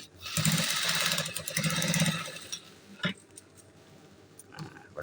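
A sewing machine runs in two quick bursts of rapid stitching while a trouser waistband is being altered, then goes quiet apart from a few handling knocks.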